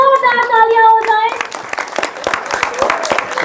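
Audience clapping at the grand opening of a children's play zone, sharp close hand claps breaking out after a sustained tonal sound at the start, with voices briefly heard amid the claps.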